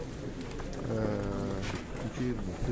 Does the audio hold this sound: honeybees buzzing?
no